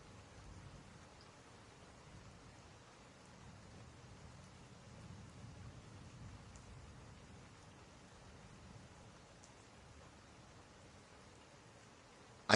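Steady, soft rainfall with a continuous even hiss and low rumble, unbroken and fairly faint throughout, with no voices.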